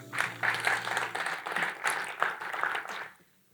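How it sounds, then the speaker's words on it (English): An audience at a gala dinner and award ceremony claps for a few seconds, a moderately loud burst of applause that fades out near the end. "Can you give me a round of applause?"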